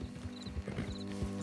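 Horse hooves clip-clopping at a riding pace in Red Dead Redemption 2, a quick close rhythm of hoofbeats over a low steady background hum, with no talking.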